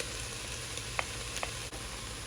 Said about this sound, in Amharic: ትንሽ ለስለስ እስከሚል ጥብስ እናደርገዋለን።